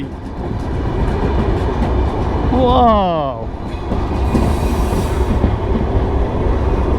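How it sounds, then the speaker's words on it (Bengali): A train rumbles heavily nearby as it arrives at Narail railway station, with rolling wheel noise, a brief squeal of brakes or wheels partway through, and a short spoken syllable. "ট্রেন চলে এসেছে ট্রেন আমাদের নড়াইলে ট্রেন"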